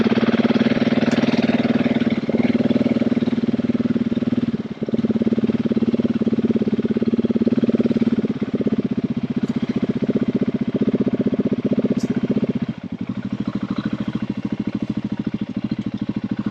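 A Husqvarna 701 Enduro LR single-cylinder motorcycle rides along snowmobile trails on New Hampshire Class VI roads, its engine holding a steady, thumping mid-pitched drone with brief dips as throttle eases, continuous and close.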